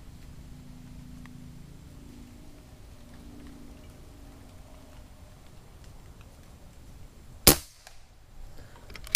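A Umarex Gauntlet .22 air rifle fires one sharp, loud crack late in the clip, after several seconds of quiet outdoor ambience.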